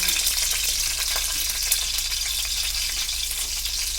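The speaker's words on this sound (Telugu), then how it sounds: "నూనె వేసుకుని ఇలా పచ్చిమిర్చి ముందు వేపేసుకునండి" Green chillies frying in hot oil for a Telugu egg curry, a dense, continuous close sizzle with a soft crackle that holds steady throughout, with no voices.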